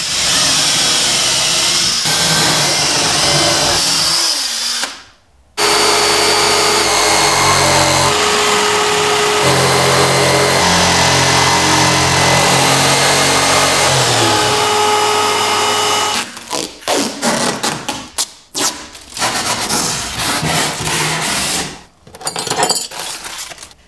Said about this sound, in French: Scie les trous.